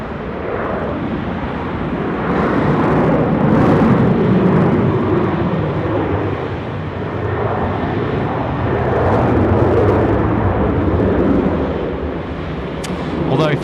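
A Boeing 737-800 departs runway 16 right bound for Perth, its jet engines a loud, steady roar that swells and eases over several seconds, with a person talking over the noise.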